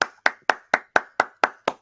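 Eight hand claps in a steady, even rhythm, each one sharp and close, with brief quiet gaps between them and no talking.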